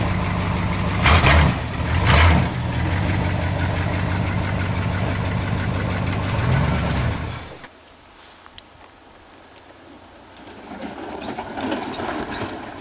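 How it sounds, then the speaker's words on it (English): A V10 Dodge truck engine roars loudly while climbing a hill, with two sharp surges early on, a sustained strain, then a sudden drop to a quieter idle-like rumble that builds slightly again. "Noisy truck."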